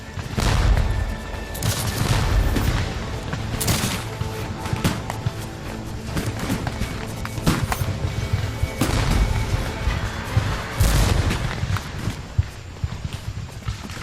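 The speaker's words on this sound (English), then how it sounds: "the crash of Union muskets breaks out on our right" A sustained Civil War musket volley, Union muskets firing at Gettysburg, rolls as a dense crackling fusillade with repeated sharp loud reports layered over a continuous rumbling din for its whole length.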